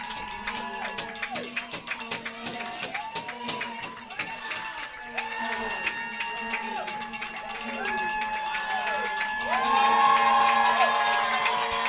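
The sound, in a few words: crowd cheering at a women's soccer match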